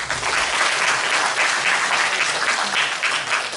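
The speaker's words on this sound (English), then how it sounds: "A big round of applause for him, please." A seminar audience claps in a dense, sustained round of applause that stays loud and even throughout, with no speech on top.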